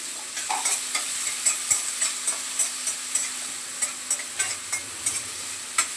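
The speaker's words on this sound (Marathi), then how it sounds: "कांदा टमाटा दोन्ही पण पटापट परतून घेते" Onion and tomato sauté in oil in a pan, salted to soften, with a steady high sizzle and a rhythmic series of spatula scrapes and stirs throughout, close and fairly loud, no voices.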